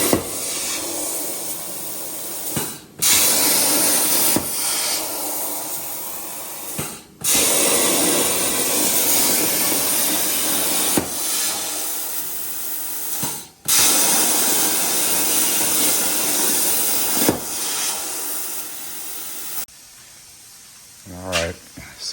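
A plasma cutter slices metal pins held in a vise, work on a fire-damaged Volkswagen Beetle. Loud, steady, close hissing roars in long bursts, broken by several short pauses.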